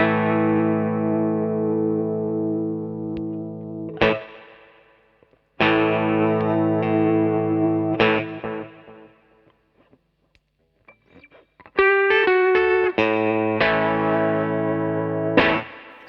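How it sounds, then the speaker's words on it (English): Electric guitar chords run through the wobbegong pitch effect of a Minson M8 pedal, giving a warbling, chorus-like shimmer; loud strums ring out and decay, separated by short gaps, with a brighter arpeggiated burst near the end. "the wobbegong is a sort of a pitch effect"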